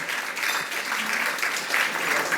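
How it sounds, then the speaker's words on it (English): Audience applause at a City Club gathering with a congresswoman: a short, continuous wash of many hands clapping at moderate loudness, without pause from start to finish. "Please give them a round of applause"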